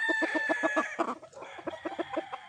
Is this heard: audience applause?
no